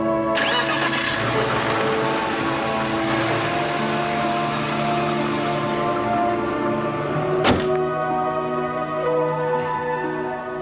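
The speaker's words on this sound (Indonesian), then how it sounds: "Boleh di starter Pak dihidupkan." A car engine is cranked by its starter and catches, then runs at a steady idle close by, with a sharp click partway through.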